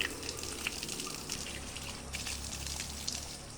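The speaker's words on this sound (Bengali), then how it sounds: "তাড়াতাড়ি হাত পা ধুয়ে নাও" Water splashing and trickling as a child washes hands and feet, a steady soft wash of droplets and spatter with small irregular splashes, fairly quiet and continuous.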